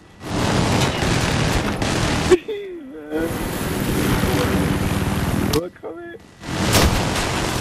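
An enemy helicopter in the shooter Battlefield 3 thunders amid bursts of gunfire, loud rotor and engine noise filling long stretches, broken by short near-silent gaps and a few distorted electronic blips.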